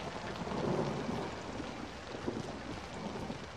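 A thunderstorm in the horror video game Outlast gives a steady, dense rush of heavy rain with low rumbling thunder. The roar stays continuous and fairly loud through the whole stretch, and no one speaks.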